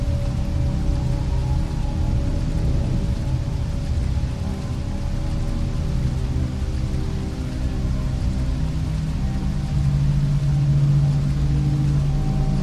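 Steady rain falls on a surface in a continuous dense patter, with a low distant rumble of thunder beneath it throughout, no voices.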